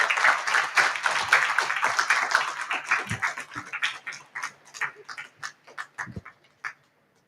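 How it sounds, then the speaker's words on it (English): Audience at a formal lecture on mooting and international law applauding to welcome the speaker, dense clapping that thins into scattered individual claps and fades out near the end. "Please welcome him with a round of applause"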